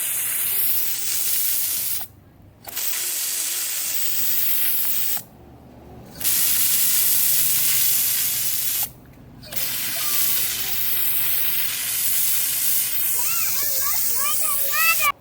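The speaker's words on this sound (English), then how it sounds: "power washing the concrete here with just a regular garden hose and an extension piece" A garden hose fitted with a jet nozzle extension sprays hard onto concrete, a loud steady hissing blast broken by several short pauses, close by, with faint voices in the background.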